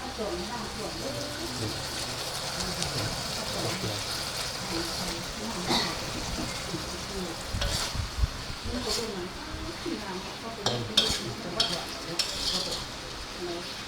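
Eggplant being stir-fried in a pan of beef red curry with fingerroot and green peppercorns, a steady close sizzle with scraping spatula strokes and a few louder clatters.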